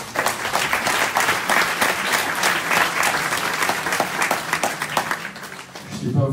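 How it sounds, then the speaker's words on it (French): Audience applause fills a Torah scroll dedication ceremony in Cachan, dense and sustained throughout, with a brief voice near the end. "Vous pouvez l'applaudir."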